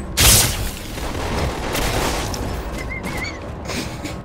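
Gunfire and booming blasts in the Halo: The Master Chief Collection Infection mode, a dense continuous barrage with a heavy burst near the start, close and loud throughout.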